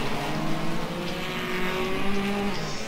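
Classic Hot Rod race cars at a Northampton oval final, engines roaring together at the start with steady loud drone and rising harmonic tones throughout, no voices.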